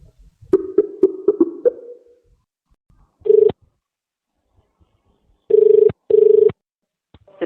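Phone call to a Sydney radio network placed during a Christmas Eve internet radio show: a quick run of dialling tones, then three loud, even ring bursts separated by silent gaps.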